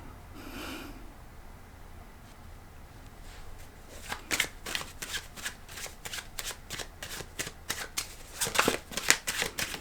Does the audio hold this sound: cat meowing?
no